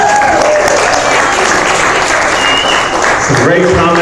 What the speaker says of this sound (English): one more round of applause for Jacob and all the comics he's seen tonight